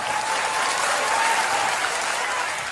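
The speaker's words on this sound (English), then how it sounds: "Why did they really clap like that?" An audience claps in sustained, dense applause at a motivational seminar, steady and fairly loud throughout with no voices standing out.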